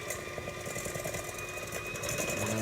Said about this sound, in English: turn the mixer on and then add the eggs